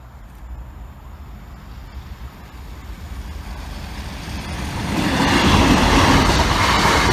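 A train approaches and passes over a level crossing at moderate speed, its rumble building from a distant low roar to a louder, nearer wash of wheel and rail noise.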